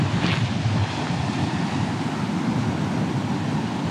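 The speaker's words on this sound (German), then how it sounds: "aber auf jeden Fall merkst du hier den Wellengang recht heftig." Heavy ocean swell and gusting wind on the Fuerteventura coast make a steady, dense roar of surf with wind buffeting the microphone. No voices are heard.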